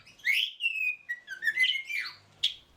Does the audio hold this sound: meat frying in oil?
no